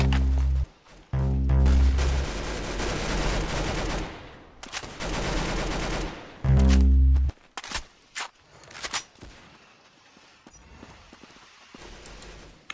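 Gunfire in the online shooter Arsenal, played through an earpiece headset: loud, blocky bursts of rapid shots separated by short gaps, then scattered single cracks and footsteps-like clatter fading out.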